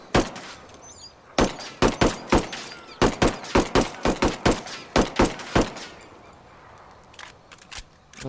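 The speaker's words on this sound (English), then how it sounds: "I got that P12 pistol. I'm gonna remove that suppressor because it sounds amazing." Unsuppressed P12 pistol shots in the Ghost Recon video game, a rapid series of about twenty sharp, loud cracks fired in quick clusters, followed by a short quieter stretch with a couple more shots near the end.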